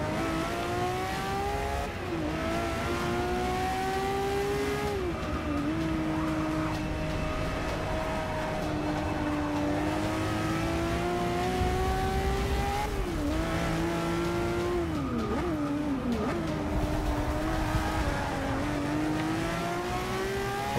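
A Ferrari F50 and other race cars roar around the Monza circuit in Forza Motorsport 6, engines climbing and dropping through gear changes, with bursts of tyre squeal, loud and unbroken across the whole stretch.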